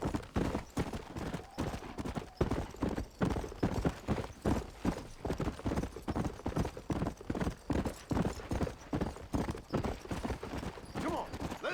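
A horse gallops in Red Dead Redemption, its hoofbeats a steady rapid clip-clop that runs close and continuous from start to finish.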